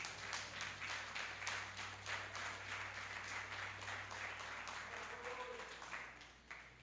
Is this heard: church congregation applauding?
yes